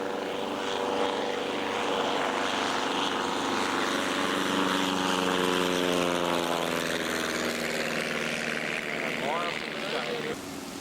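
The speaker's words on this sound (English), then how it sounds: "Planes all over the place today" Propeller planes drone overhead, their engine tone sweeping in pitch as they pass, loud and continuous for several seconds.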